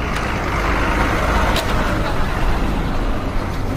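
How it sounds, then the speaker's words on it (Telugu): A bus rumbles loudly and continuously at Tandur bus stand in Telangana, engine and road noise filling the air with a brief hiss like an air brake partway through. "వస్తున్న బస్సు తాండూరు టు వికారాబాద్."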